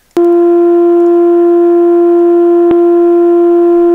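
A fire department paging tone, a steady loud pure tone with clean harmonics, plays back alone and unbroken for about four seconds, with faint clicks at the start and near the middle.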